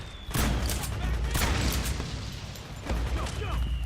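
Rapid bursts of gunfire in Metal Gear Solid 4 crack out in several sharp volleys over a dense battlefield din, loud and close, with shouted voices in the mix.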